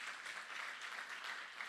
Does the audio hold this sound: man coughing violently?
no